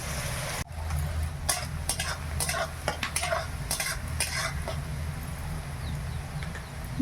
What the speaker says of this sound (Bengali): বিনস আর গাজর খুব সুন্দর করে ভাজা হয়ে গেছে